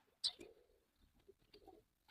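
A teddy pigeon in a loft gives short, soft coos, a brief louder note followed by faint low murmurs, close and quiet.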